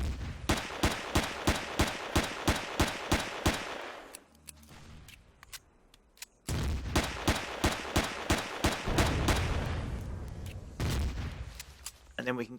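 Rapid bursts of gunfire in the space survival game Empyrion: Galactic Survival, loud sharp repeated shots in quick rhythmic volleys, a brief lull near the middle, then another sustained barrage.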